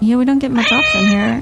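A cat in Dragon Age: Awakening gives loud, drawn-out meows that waver in pitch, overlapping with a person talking.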